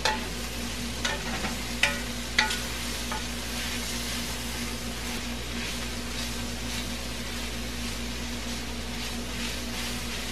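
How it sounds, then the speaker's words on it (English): Fresh green Swiss chard sautéing in a pan, an even, continuous sizzle with a few sharp scrapes of stirring near the start, close by and without voices. "Then we're going to add that wonderful green Swiss chard. And just stir it around"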